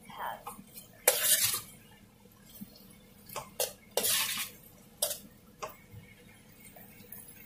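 Metal utensil scraping and clinking in a pan as chilli paneer is stirred over low gas heat, intermittent close knocks and scrapes with soft sizzling between, alone without talk.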